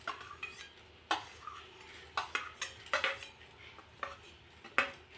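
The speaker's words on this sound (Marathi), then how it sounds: "आता हे मध्यम आचेवरती आपण भाजून घेणार आहोत।" Whole coriander seeds and black peppercorns for rasam powder dry-roasting over medium heat in a pan, with a spoon scraping and clinking against the metal in irregular bursts, fairly close and alone, no talking.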